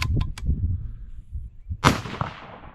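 A rifle shot fired during calm, nearly windless target shooting at a range cracks loudly once, a sharp broadband blast with a decaying tail, after a few faint earlier clicks.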